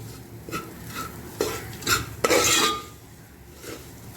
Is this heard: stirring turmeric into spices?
yes